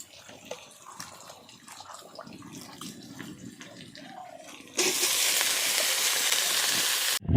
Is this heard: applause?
no